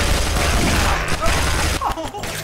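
Dense, continuous gunfire and explosions from the Guns, Gore & Cannoli video game fill the mix loudly throughout, with chaotic crashes and a voice shouting briefly.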